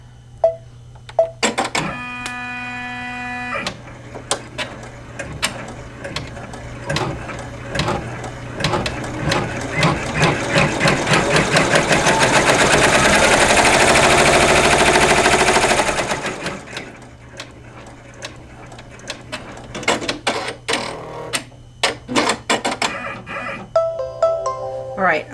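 A home embroidery machine stitches out a quilt block of calico fabric, its needle chattering in a fast steady rhythm that speeds to a dense whir in the middle and then slows, with short beeps and brief speech around it.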